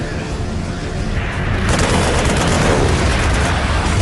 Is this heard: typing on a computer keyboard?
no